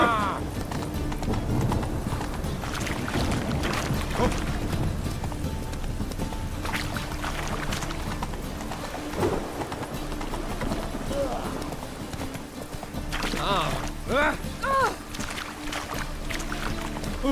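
Horse hooves clip-clopping at a steady running rhythm in the game Witcher 3, heard alongside game sounds and a voice talking and calling out over the top.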